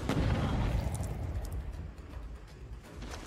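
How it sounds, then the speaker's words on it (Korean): A firecracker bursts in the horror game Dead by Daylight, a loud sharp crackling blast at the start that decays into a rumbling, hissing tail with faint scattered pops. "폭죽을 터뜨려."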